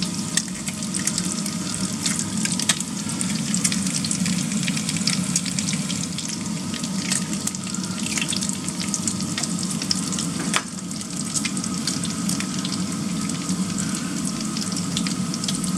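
Eggs and bacon frying in a pan on a plug-in ceramic hob, giving a steady, close sizzle with faint crackles that runs unbroken throughout, with no talking.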